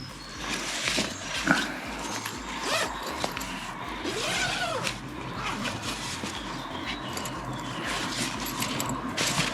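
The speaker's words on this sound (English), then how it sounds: "So we'll get the flipping zip, find out where he is." A zip on a fish retainer sling is pulled open on a Northern Irish carp lake bank, its quick ripping rasp mixing with fabric rustle and handling clatter, close and fairly loud, with no one talking.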